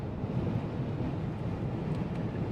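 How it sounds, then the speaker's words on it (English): Wind buffets a Cybertruck driving under FSD 14.3.2 on the way to the Tesla Diner, a steady low rumbling roar pressing against the microphone throughout, with no talking. "the wind is blowing"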